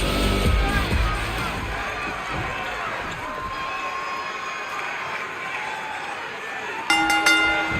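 Hot arena crowd roaring and cheering at a wrestling match in the WWE 2K26 video game, a loud continuous swell of noise throughout with a brief sharper burst near the end.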